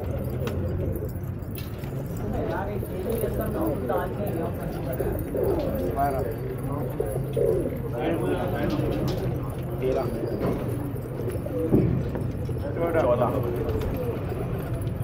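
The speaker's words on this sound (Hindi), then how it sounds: "कबूतर बाहर आ रहे हैं भाई।" Pigeons coo steadily nearby at a pigeon-flying competition while a man counts them over the cooing, with light rustling and outdoor background noise.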